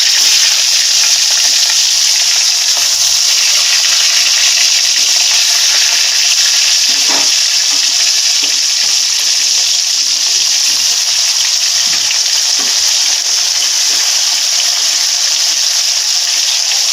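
Pangas fish fries in hot oil with a loud, constant sizzle and crackle, a few brief stirring clinks breaking through the steady frying hiss.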